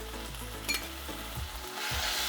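Finely chopped tomatoes, two of them, sizzle and fry in a pan while a spoon stirs them in short scraping strokes, the steady crackle loud and close with no talking.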